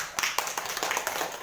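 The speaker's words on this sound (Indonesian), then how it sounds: "Tepuk tangan untuk beliau." A school audience applauds a presenter after a talk on positive culture, a short burst of brisk, fairly close hand claps from a small group.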